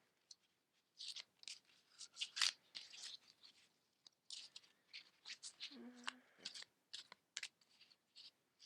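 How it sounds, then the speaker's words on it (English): Oracle cards being shuffled by hand: a run of crisp, papery riffling and slapping bursts coming in quick clusters with brief pauses, close and fairly quiet, with faint background sounds in between. "I am shuffling the cards as I always do"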